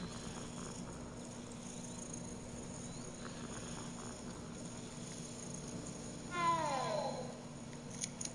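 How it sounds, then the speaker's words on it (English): A single cat meow rises and falls near the end, clear but brief, over a steady low hum and faint insect-like background noise. "It's a cat."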